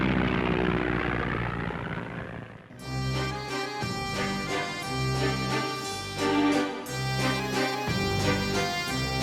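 Early sound-film recording of an airplane taking off: a rushing propeller roar gives way to a steady, droning engine tone, loud and sustained throughout.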